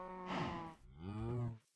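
A video game cow moos twice, a loud drawn-out low call followed by a second moo, with no talking.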